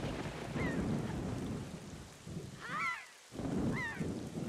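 A thunderstorm with heavy rain in The Legend of Zelda: The Wind Waker HD: a steady rain roar with rolling thunder, a brief drop in the downpour, and a few high honking bird calls over it.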